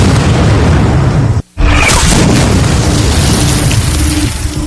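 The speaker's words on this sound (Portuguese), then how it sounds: "Investida de Pickett, era barrado a tiros de canhão" A deep, heavy boom of cannon fire at the Battle of Gettysburg marks the Union guns turning back Pickett's Charge on 3 July 1863. The loud roar breaks off for a brief silence, then rumbles on in a dense wash.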